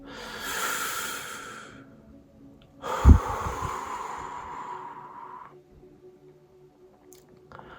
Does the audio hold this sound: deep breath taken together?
yes